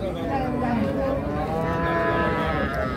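At Ambari cattle market, a Holstein Friesian cow gives a sustained, loud moo nearby, the deep call holding steady for several seconds over faint crowd noise.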